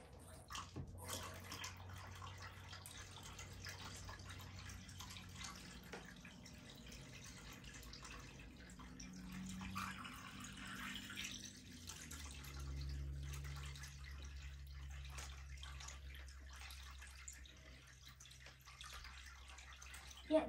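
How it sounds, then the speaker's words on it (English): Water is pumped and tipped into a home fish tank, a faint continuous trickling and splashing that runs steadily and changes pitch as the level rises, with no talk over it. "So I'm just gonna pump up some more water."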